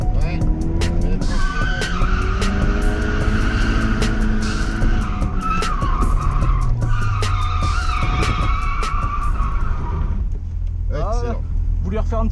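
A Nissan S13 with a CA18DET engine spins one wheel, tires squealing and skidding loudly over a roaring engine, with pitch sweeping up and down before the noise eases off near the end.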